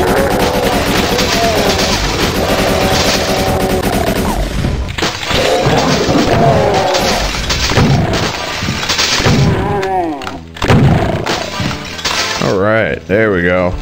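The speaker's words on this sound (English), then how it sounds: "Let's get our chain gun out." Rapid automatic gunfire from a chaingun in Doom 2, loud and dense amid explosions, crashes and other game effects, continuous over a busy mix, with a voice talking throughout.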